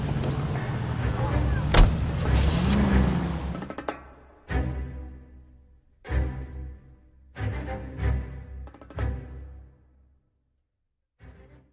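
A car driven in the L.A. Noire video game: a continuous engine drone for the first few seconds, then door-like thuds and clunks, separated by near-silence.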